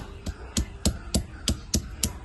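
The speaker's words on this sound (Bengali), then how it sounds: "এখন একটু আদা রসুন বেটে নেবো" Ginger and garlic pounded into a paste, with about eight evenly spaced, fairly loud thuds of the grinding stone at a steady pace and no voice.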